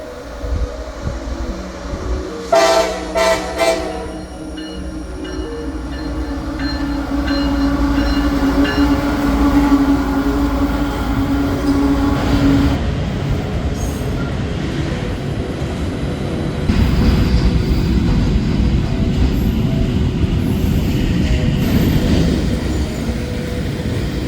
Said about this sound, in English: I would catch another eastbound intermodal going over the Erie Canal